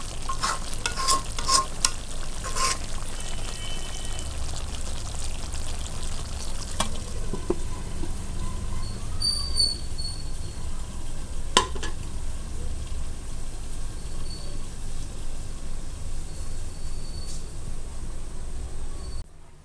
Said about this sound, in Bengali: তো পাতিলে তেল দিয়ে দিলাম দারচিনি, এলাচ